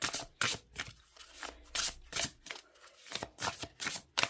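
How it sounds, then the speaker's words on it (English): Crisp, rapid riffling and clicking of playing cards in repeated short bursts, close up, with no talking. "let me shuffle this deck and see how it shuffles"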